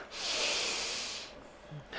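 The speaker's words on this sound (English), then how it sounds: "And then a sniff." A sharp nasal sniff during a Pilates mat breathing exercise, a bright hissing intake lasting just over a second at close range, followed by a brief quieter breath.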